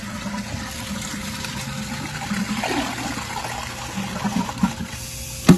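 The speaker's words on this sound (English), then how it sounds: "Once the water's off, you flush the toilet to empty the water out of the tank." A toilet flushes to drain its tank during a repair for a running toilet, a moderate steady rush of water with gurgles and trickles that swell into a few louder splashes toward the end.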